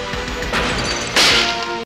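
Glass shatters twice in a horror movie scene, a bright crash about halfway and a louder burst near the end, over a sustained background tone.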